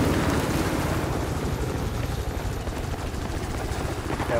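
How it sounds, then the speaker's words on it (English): A helicopter's rotor in the video game Battlefield 4 thrums steadily in the background, a continuous rumbling drone at moderate distance with no voices. "Spotted an enemy helicopter!"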